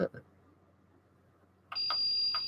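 Electronic beeping from a Geiger counter starts near the end, rapid high tones repeating, after a couple of short sounds at the start; otherwise quiet background.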